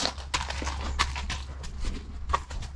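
A horse on a trail ride walks with a rhythmic clip-clop of hooves, close and moderately loud, steady footfalls over several seconds with faint ambient noise beneath.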